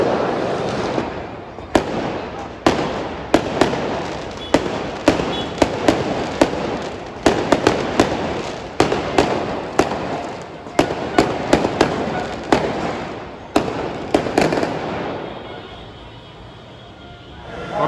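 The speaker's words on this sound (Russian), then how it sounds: "Салюты даже днем, весь день, начиная с 2 часов дня." Daytime fireworks go off over Naples during Italian football championship festivities, a string of sharp, booming bangs at irregular intervals, roughly two dozen over the span, before they die away into quieter background noise.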